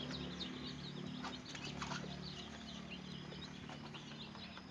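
Young chicks in a farm brooder, recently given their vaccine drops, keep up a dense, continuous chorus of high cheeping and peeping over a steady low hum, close and fairly loud throughout.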